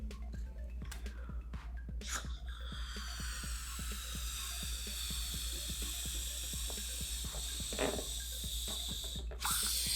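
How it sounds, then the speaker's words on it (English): Air hisses out of a balloon through a straw on a small balloon-powered car, a continuous rushing stream over a fast rattling mechanical pulse that keeps up throughout. "make sure all the air is coming out of that straw"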